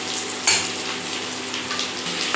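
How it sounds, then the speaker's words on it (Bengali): Carrots and capsicum stir-fry in a hot pan, a steady close sizzle with a sharp scrape or clatter near the start as the vegetables are moved around. "এবার বাকি ক্যাপসিকামটাও দিয়ে দিই, দিয়ে একটু নাড়াচাড়া করব"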